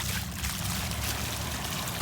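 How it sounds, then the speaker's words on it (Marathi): Irrigation water gushes steadily through channels in an onion field, a continuous close rushing and gurgling flow. "कसं पाणी खळखळ खळखळ वाहत आहे"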